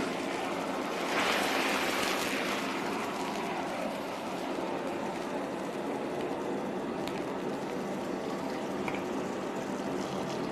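Water poured into a hot wok over caramelized sugar, oil, scallion, ginger, garlic, Sichuan peppercorns and dried chilies, giving a loud, steady rushing hiss and bubbling that swells early, then settles into a continuous boil with no talking.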